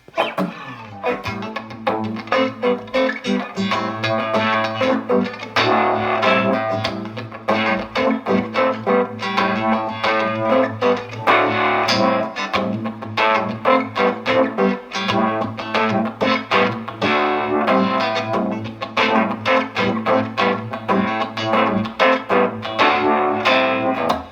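Electric guitar through a Univibe effect on a Line 6 HX Effects unit, swirling, throbbing modulation and light reverb, playing a steady riff over a sustained low note, loud and continuous throughout.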